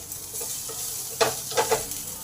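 Onions fry in a pan with a steady sizzle while a utensil stirs them, producing several distinct scraping bursts and crackling surges close by.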